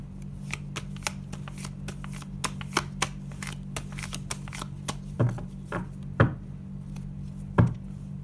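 Tarot cards being shuffled, a run of crisp papery riffles and slaps with louder snaps near the end, heard close and alone over a steady low hum.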